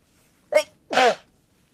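Two sharp sneezes in quick succession, close and loud, the second longer than the first, with silence around them.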